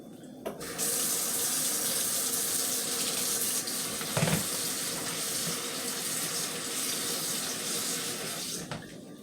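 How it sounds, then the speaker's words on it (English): Cooked pasta for a crab pasta salad is drained in a kitchen sink, with a steady rush of water splashing and pouring continuously, moderately quiet and without any talking. "My pasta here is all done, so I'm just going to drain it"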